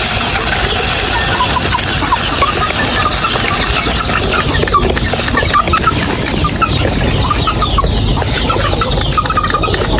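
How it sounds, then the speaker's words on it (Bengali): Two hens with their chicks cluck and cheep amid a noisy outdoor yard, small calls scattered throughout over constant rough background hiss. "প্রথমত এই বাচ্চাওয়ালা মুরগি 2টা"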